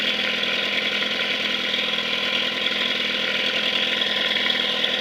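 A 1955 Mercury Mark 5 five-horsepower outboard motor runs steadily at a constant, even drone for the whole stretch, close and moderately loud with no voices.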